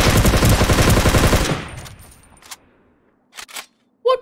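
Dense burst of rapid video game gunfire, loud and continuous for about a second and a half, then cutting off into near silence broken by a few short distant shots.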